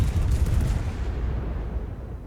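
A heavy warship gun salvo in World of Warships, a deep booming blast that rolls and fades away over about two seconds, with no voices.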